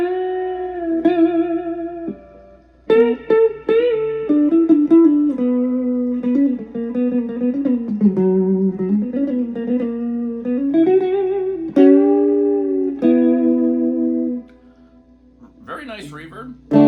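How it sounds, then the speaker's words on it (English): Electric guitar through a Randall RG80 combo amp plays a slow bluesy phrase of sustained notes and bends, drenched in reverb that lets each note ring and wash out. "we're gonna crank up the reverb here"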